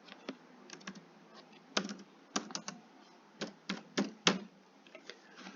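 Keys clatter on a computer keyboard as a sentence is typed into Microsoft Word, with quiet, close, irregular clicks arriving in small clusters, separated by short pauses.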